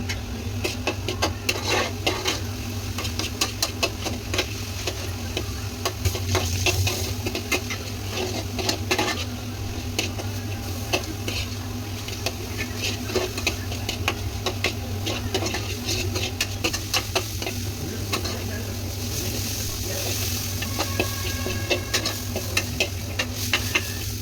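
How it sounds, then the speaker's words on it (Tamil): Onions frying and being stirred in a pan while cooking Chicken Manchurian: a steady sizzle runs throughout with frequent scraping and clinking of a utensil against the pan, close and continuous, with no voices. "இப்போ நீங்கள் போட்ட ஆனியன் வந்து நீங்கள் 3 பங்கு போட்டிங்கன்னா 1 பங்கு வர அளவுக்கு நல்லா வச்சுக்கோங்க"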